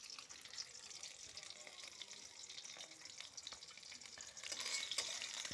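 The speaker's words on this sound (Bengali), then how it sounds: "একদম এপিট এপিট উল্টে একদম মুচমুচি করে ভাজা করে নেবো" Fish frying crisp in a pan on a home stove, turned side to side, giving a steady close sizzle with a few stirring scrapes that grows louder near the end.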